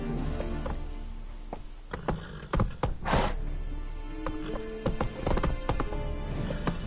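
Hoofbeats of the horse Roach galloping in The Witcher 3, a steady rapid clip-clop with occasional whinnies and thuds, close and continuous throughout.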